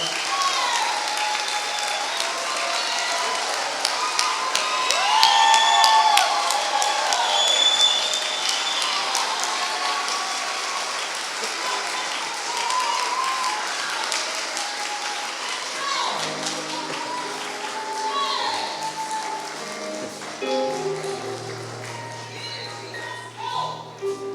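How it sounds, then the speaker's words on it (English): A graduation audience at a Peralta Colleges African American ceremony applauds and cheers loudly and steadily, a dense crowd-wide wash that swells early and then carries on, with a voice talking over the last few seconds. "Let's give him another round of applause."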